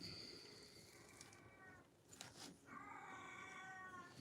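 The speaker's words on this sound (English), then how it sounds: "I don't know if y'all hear my cat crying." A pet cat cries indoors with several drawn-out, wavering meows, separated by a short pause, fairly close but quiet.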